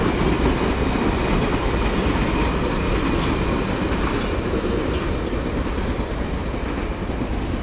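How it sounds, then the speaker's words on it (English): A scenery train pulling a scenery car rolls past on the tracks, with a loud, close, steady rumble and rhythmic clickety-clack of wheels throughout, and no voices. "No steam train today, but I guess the scenery train made it."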